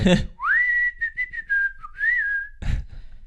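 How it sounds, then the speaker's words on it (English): A lone person whistles a short, wavering melody up close, with a few gliding notes and brief pauses, framed by soft breaths. "So like I listened to the whistle part"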